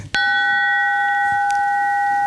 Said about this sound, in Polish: Fajny gong.